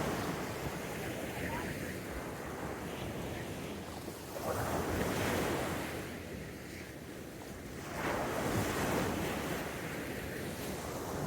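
Strong, rough ocean surf breaks on Puka Beach in Boracay after rain, a continuous wash with two big surges rolling in close by, blown about by wind.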